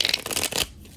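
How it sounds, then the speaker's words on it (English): A tarot and oracle card deck is shuffled up close in a quick run of crisp riffling flutters lasting about half a second before it falls quiet. "I'm going to give it a good shuffle"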